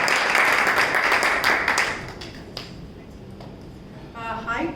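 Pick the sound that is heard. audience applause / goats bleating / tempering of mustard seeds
audience applause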